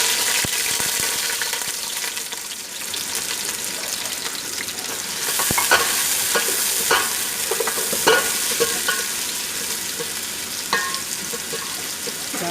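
Onions fry in hot oil with a steady, dense sizzle, joined by occasional scraping stirs and clinks of a spoon against the pan, close and continuous with no talking.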